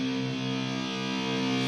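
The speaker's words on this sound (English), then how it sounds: "I've got loads of distortion on ready, so I'm just going to talk over whilst I play you through" An electric guitar in drop C tuning sustains a thick, heavily distorted chord, loud and unbroken, with no voice over it.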